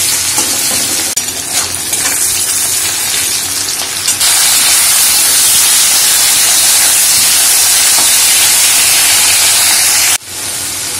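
Chopped tomato added to onion and slit green chilli frying in hot oil for a crab dish, giving a loud, steady sizzle and hiss throughout with stirring scrapes, easing off sharply near the end.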